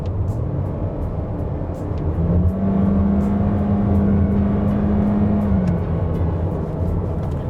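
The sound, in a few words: 2021 Toyota Corolla Cross CVT transmission at high RPM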